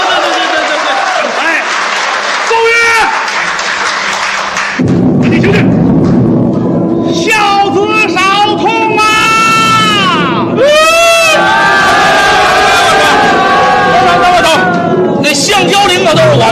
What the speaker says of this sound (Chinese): 大伙儿掌声鼓励一下孝子